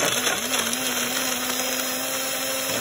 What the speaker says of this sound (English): I add it onto my little Hamilton Beach blender. I give it a twist and then fire it up.